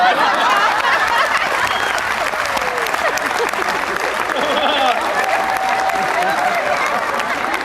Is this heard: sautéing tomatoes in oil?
no